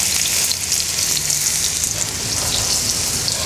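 Oyster, shiitake and Swiss brown mushrooms frying in a hot pan, giving a loud, dense, continuous hiss and crackle that holds steady throughout, close up with no voices.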